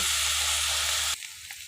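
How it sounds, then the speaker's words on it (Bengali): Bitter gourd (karela) fries in a pan with a harsh, loud hiss that lasts about a second. The hiss then drops suddenly to a muffled, softer simmer once covered, with a faint clink. "এখন আমি ঢেকে দিয়ে এটা ভাজি করে নেব"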